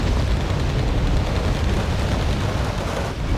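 A bombardment in Wargame Red Dragon brings a dense, continuous roar of rumbling explosions, heavy and loud throughout, with no clear gaps between blasts.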